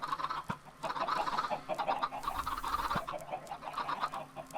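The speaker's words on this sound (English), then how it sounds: "Let's just keep doing this to as many adult chickens as we can" Several chickens cluck in the Minecraft video game, a busy overlapping stream of clucks and short calls that holds steady at moderate loudness with no speech.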